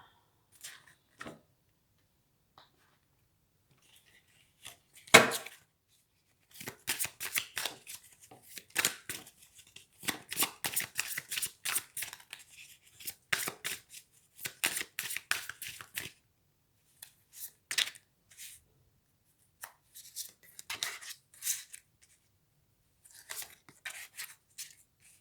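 Tarot cards shuffled by hand for a love reading, a run of soft papery riffles and flicks in uneven bursts after a sharp slap near the start, close and fairly quiet with long silent gaps.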